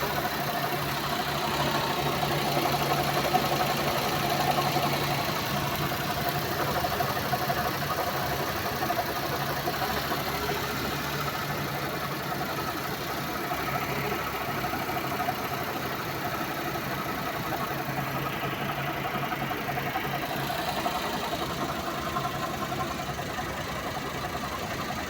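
Suzuki Multicab engine idling steadily, a continuous low hum and rattle at an even level throughout with no voices.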